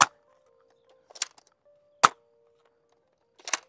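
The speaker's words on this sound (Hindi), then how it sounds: "यहाँ से मैं बुलेट को फायर करता हूँ" A toy Fire Blast Storm gun shoots a bullet in a few separate sharp pops and clacks spaced a second or so apart, each short and crisp, with quiet between and a faint steady hum underneath.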